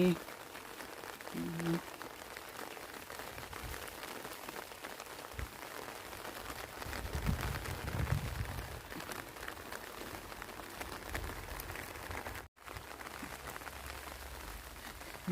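Rain falls on a vegetable garden in Hungary, a faint, continuous hiss of fine drops pattering on leaves and soil that stays steady from start to finish.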